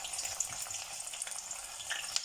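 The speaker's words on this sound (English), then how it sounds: "As you can see, it's frying up nicely." Steady crackling sizzle of garlic and green chili frying in hot oil, close by, with small pops scattered throughout and no voices.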